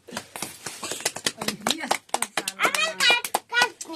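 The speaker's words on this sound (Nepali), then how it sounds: "ताली" At a family birthday celebration, hands clap in a quick run of sharp, close claps while children and adults talk and call out over them.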